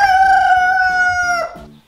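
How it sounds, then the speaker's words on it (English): A rooster lets out one long, loud crow nearby that fades at the end. "I'm being shown up by the rooster."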